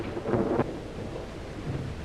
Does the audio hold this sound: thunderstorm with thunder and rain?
yes